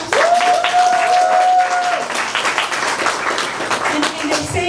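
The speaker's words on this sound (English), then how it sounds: "Can we give a round of applause?" Audience applause at a book launch, broad clapping under a brief tonal sound early on, then thinning and mixing with faint voices toward the end.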